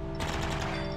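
A quick run of rifle shots rings out in the video game Cruelty Squad, several sharp cracks in fast succession over a steady droning background, close and fairly loud.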